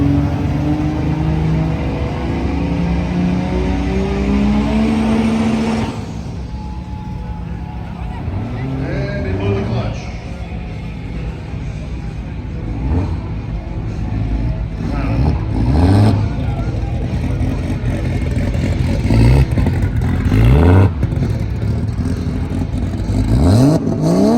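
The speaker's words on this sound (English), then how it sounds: "give it up for this awesome Midas Touch Edition Ford pickup truck" A Midas Touch Edition Ford pickup truck rolls past in the SEMA parade in Las Vegas, its engine rumbling and revving close by amid crowd noise, with an announcer's voice over a PA.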